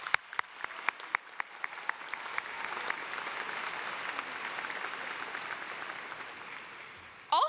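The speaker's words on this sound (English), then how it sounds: "Please join me in giving our special guests a round of applause." A high school graduation crowd gives a round of applause for special guests, dense clapping building and holding steadily with a few sharp nearby claps, cutting off abruptly at the end.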